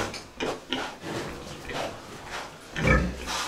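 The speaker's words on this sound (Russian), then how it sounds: "вот эта свинья, что-то они гудят постоянно с хряком" Pigs, a sow and a boar penned together, grunt and rumble in several low, close bursts spread irregularly across the moment, with occasional louder snorts and no talk.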